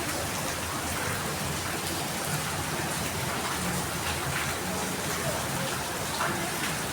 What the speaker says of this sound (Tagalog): Ulan pa more.